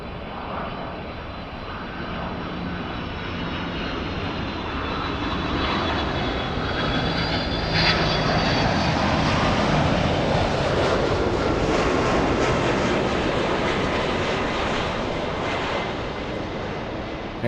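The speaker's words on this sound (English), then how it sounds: "There goes the United flight." A United Boeing 787 airliner passes over near Los Angeles airport, its jet engines a steady, broad roar that swells to a peak midway and slowly fades, heard alone at moderate distance.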